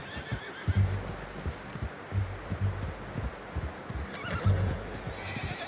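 A horse in Red Dead Redemption 2 neighs and snorts close by while its hooves clop in an uneven rhythm on soft ground, with no talk.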